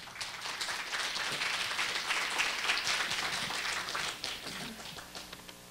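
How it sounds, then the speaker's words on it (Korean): An audience at the Korea University KU-KIST graduate school entrance ceremony breaks into warm, continuous applause from many hands in a hall. The clapping holds steady, then thins slightly toward the end. "뜨거운 박수 부탁드립니다"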